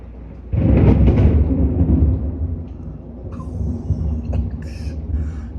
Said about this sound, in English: I know I hear that thunder.